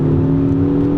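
A 2018 Ford Focus ST engine pulls hard in first gear with a steady, close, loud droning hum over one brief second.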